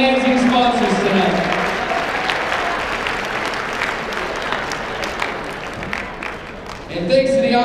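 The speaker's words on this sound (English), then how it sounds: "Let's give a big round of applause to all our amazing sponsors tonight" Sustained crowd applause at a charity food bank gala, steady and full for several seconds before thinning, with a voice briefly audible at the start and end.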